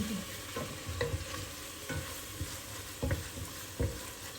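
Tomato paste fries in a pot with a soft continuous sizzle, broken by a regular series of spoon scrapes and stirs against the pot, close and fairly quiet with no talking.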